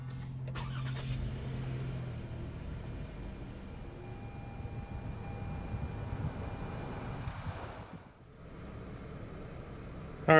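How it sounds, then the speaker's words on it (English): A 2015 Toyota Sienna engine starts by push-button and settles into a quiet, steady hum, heard from inside the vehicle with faint background noise and a brief dip near the end. "so start the vehicle. All you have to do is put your foot on the brake and push this button."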